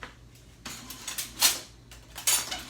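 Metal spoon scraping and clinking against a bowl while tossing seasoned radishes, several irregular close clatters and scrapes, fairly quiet, no talk.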